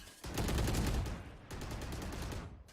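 Rapid automatic gunfire in Valorant on the Icebox map during a competitive esports match, a loud sustained burst that pauses briefly and then resumes with a second volley.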